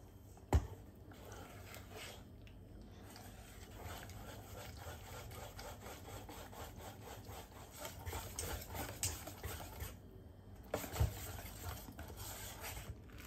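Zucchini and parmesan pancake batter is stirred with added milk, a soft continuous scraping and rubbing in a bowl, quiet and close, with a couple of small knocks against the bowl and no talking.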